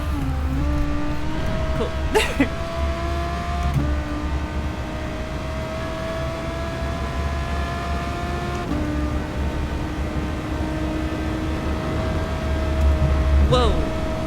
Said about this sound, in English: Maybe drift through this corner.